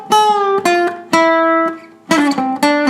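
Acoustic guitar playing a song, with several sustained strummed chords struck in sequence, each ringing out clearly and close before the next, with no voice over the playing.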